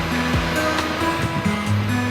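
Ocean surf rolls along the Jusangjeolli coast walking path in Gyeongju, a continuous rushing wash of waves with a low steady rumble, heard alone for a couple of seconds.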